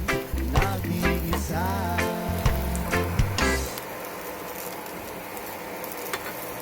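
Cooking oil heats in a pan for garlic, a soft crackling sizzle accompanied by a few clanks of utensils early on, then a steady gentle hiss without any talk.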